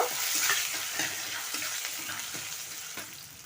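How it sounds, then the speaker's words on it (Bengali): Dried chillies and panch phoron sizzling in hot oil, a bright crackling hiss with soft rhythmic stirring strokes, close and steady with no talk. "তেল গরম হয়ে গেছে এখন আমি শুকনো লঙ্কা আর পাঁচফোড়নটা দিয়ে দিচ্ছি একটু নেড়ে চেড়ে"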